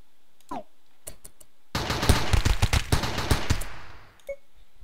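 Rapid gunfire in RimWorld, a Lee Enfield among the weapons, bursts into a dense cluster of sharp shots lasting about two seconds after a few scattered clicks, then fading to quiet.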